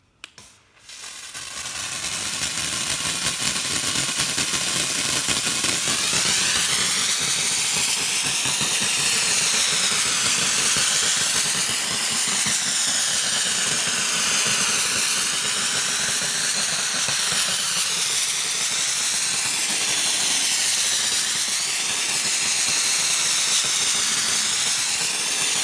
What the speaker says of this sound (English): Wet steam.